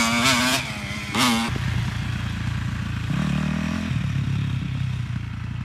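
Motorbike engine roars loud and close through a coaching session's muddy turn, revving hard in two bursts then settling into a steady throttled drone with gear-change shifts in pitch.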